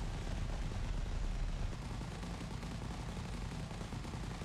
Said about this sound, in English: So let's just shoot and see how it works.